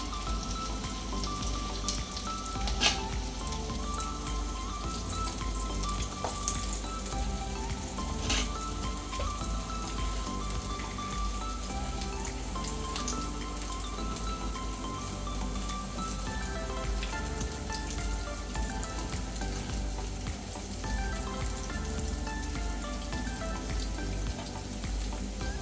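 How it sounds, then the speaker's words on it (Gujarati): Veg cutlets shallow-frying in a pan over a medium flame make a steady, dense sizzle and crackle that carries evenly throughout, with no talking. "મીડિયમ ગેસ પર તળવાનું, શેલો ફ્રાય કરવાનું."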